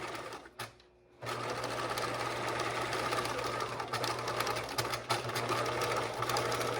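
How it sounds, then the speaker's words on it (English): A sewing machine runs a steady, fast top-stitching line along the bottom of a pocket on a caddy bag, a close, continuous whirring hum after a brief pause at the start. "I am going to do my top stitching line at 1/4 inch at the bottom of the pocket to reinforce"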